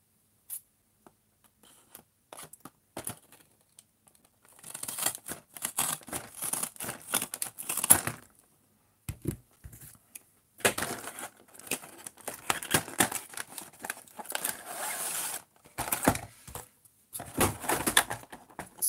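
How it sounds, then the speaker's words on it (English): Plastic blister packaging holding a 1998 Matchbox or Hot Wheels toy car being cut open with scissors, with sparse snips at first, then bursts of crinkling, tearing and crackling plastic up close, without talk. "So let's cut this open."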